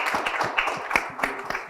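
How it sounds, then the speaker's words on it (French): A few people clap in a studio discussion about fashion and elegance, sparse distinct claps landing at a loose rhythm, fairly soft and close. "Ça mérite quand même des acclamations,"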